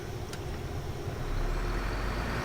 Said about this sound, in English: Sounds like a big, powerful off-road truck.